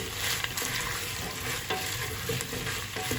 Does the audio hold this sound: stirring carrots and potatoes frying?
yes